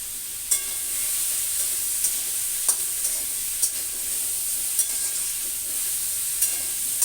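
Turmeric and salt frying with a cut piece in a hot pan for a pumpkin and rohu fish curry, a steady bright sizzle broken by regular light clicks of a spatula stirring, close and alone with no talk.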